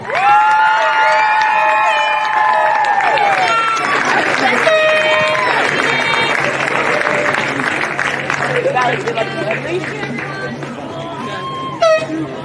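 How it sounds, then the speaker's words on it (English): At a women's football cup final, the crowd applauds and cheers for the runners-up Manly United, with blaring air horn blasts over the noise early on and a sharp burst near the end. "please, a large round of applause for our runners-up, Manly United"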